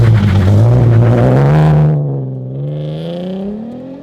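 A Nissan 370Z stuck in snow revs hard, its engine note climbing as the wheels spin, then easing off and rising again; loud and close, with no talk.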